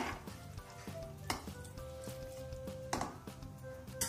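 Cooked bottle gourd being stirred in an opened pressure cooker, giving soft wet squishing and scraping against the metal pot with a couple of sharper clinks, close and steady over a low background hum.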